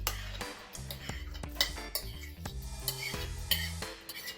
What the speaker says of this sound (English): And then you mix it again.